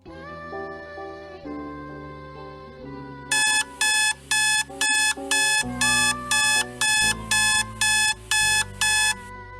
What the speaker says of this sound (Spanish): se despertó con el ruido de su alarma